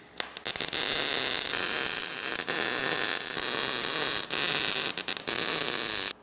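Tack welding on a slotted steel front bumper: a loud, steady crackling buzz runs almost without pause, broken by a few brief gaps as the arc stops and restarts.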